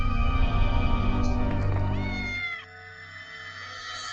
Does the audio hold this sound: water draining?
no